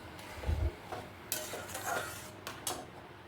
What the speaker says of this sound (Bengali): চিনিটা দিয়ে খুব ভালোভাবে নাড়িয়ে নেব